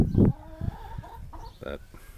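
Chickens in a backyard coop with a nesting box and chicken-wire walls give a few short clucks near the mic, one louder burst at the start, then softer scattered calls.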